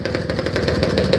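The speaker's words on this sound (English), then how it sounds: "Tractor's coming back around." A tractor drives past on a dirt motorsports track, its engine a loud, steady, rattling chug that stays close and constant.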